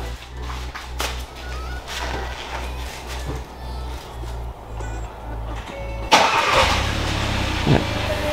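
A Hyundai i30 N-Line with an Xforce catback exhaust cranks and fires near the microphone, its low steady idle running for several seconds before a louder, rougher surge as the engine catches and settles into a mid-pitched hum.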